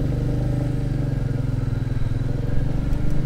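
A Royal Enfield Meteor 350 cruiser motorcycle engine runs while riding, a close, loud, steady single-cylinder thump with rapid rhythmic pulsing and some wind rumble, with no talk.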